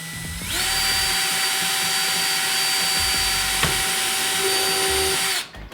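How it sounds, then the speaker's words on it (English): A power drill driving screws into a Honda Integra whirs in one continuous high-pitched run for about five seconds, close up, then cuts off abruptly. "I'm gonna hold this in place, drill into it, take the screws"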